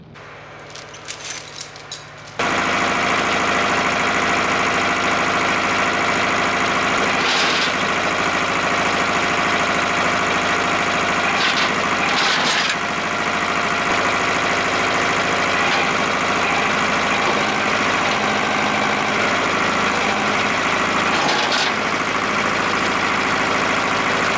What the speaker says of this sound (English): So I'm going to grab the tractor and see if we can get the front of this picked up in the air